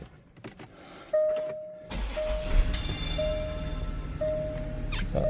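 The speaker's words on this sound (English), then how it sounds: "Start the car up" A Range Rover Sport's engine cranks and fires with a sharp thump after a few small clicks, then settles into a low steady idle while several electronic chime beeps sound at regular intervals.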